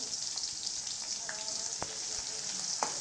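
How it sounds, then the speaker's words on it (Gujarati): Crushed garlic frying in hot oil in a pan while cooking an onion and cabbage curry, with a steady, quiet sizzle, a few soft pops and light clicks from a spoon, close and with no talking. "હવે જે આપણે લસણ વાટ્યું હતું તે નાખવાનું છે"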